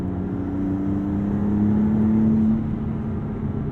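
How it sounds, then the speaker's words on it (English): The turbocharged engine of a 2022 Maserati MC20 pulls steadily through the midrange on a drive, a sustained droning engine tone with a rising whine that swells, holds, then fades slightly as the throttle eases. "you get some wonderful turbocharger induction noise"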